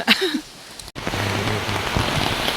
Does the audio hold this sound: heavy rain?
yes